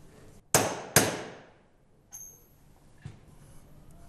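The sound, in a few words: hammer and drift tool fitting a bearing onto a spindle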